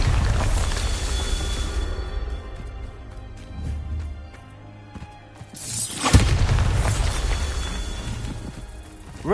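Bombarda spell blast in the video game Hogwarts Legacy, a loud booming explosion that erupts near the middle and rumbles on, with earlier lower swells and ambient game sound, no talking.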